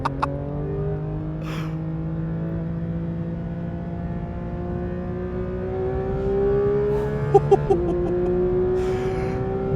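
A Porsche 911 GT3 RS engine revs high toward 9,000 RPM, a loud sustained mechanical whine rising steadily in pitch, with a brief sharper burst near the end and no talking.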